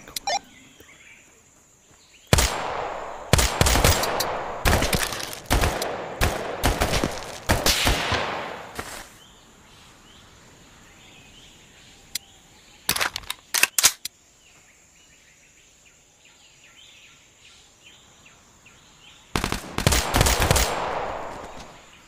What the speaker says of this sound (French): Il y a quelqu'un qui tire dessus, je sais pas qui.